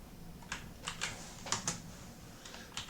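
Typing on a computer keyboard: a handful of quiet, irregular keystrokes, some in quick pairs, clicking close by against a quiet room.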